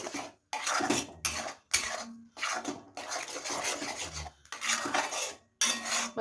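Spoon scraping and clinking against a cooking pan while raw onion, garlic, tomato and spices are stirred together, in repeated bursts of metallic rasping separated by short pauses, close and fairly loud.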